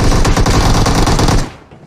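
Rapid automatic gunfire from the video game Free Fire, a loud, dense burst of shots for about a second and a half that cuts off and trails away, with no talk over it.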